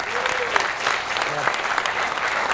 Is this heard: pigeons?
no